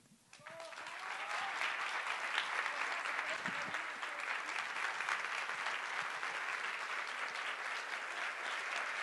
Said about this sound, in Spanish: Un minuto de aplauso, un minuto de aplausos, por favor, para María de los Ángeles Moreno.